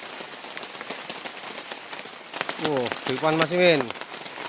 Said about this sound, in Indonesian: Ini udah hujan lagi teman-teman ya.